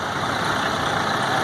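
A 1965 Allis-Chalmers D21 tractor rolls past in a show parade, its engine giving a steady, loud, continuous rumble with no talk over it.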